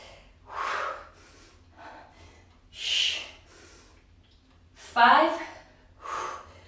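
Yoga breathing during a core-focused session: a series of audible inhales and exhales spaced a second or two apart, soft gusts of breath, with an instructor talking between them.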